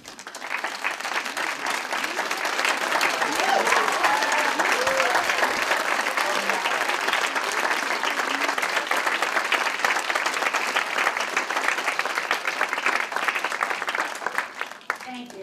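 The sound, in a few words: audience applause for community garden coordinators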